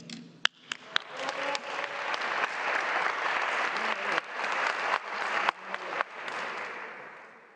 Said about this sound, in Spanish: Un fuerte aplauso para Ricardo Yair Silva González